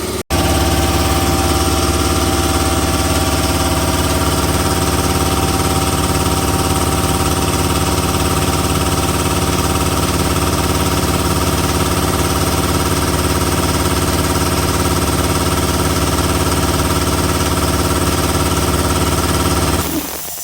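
An air compressor runs continuously after starting, a loud, dense mechanical drone with steady vibration. It is close and constant, cutting off at the end.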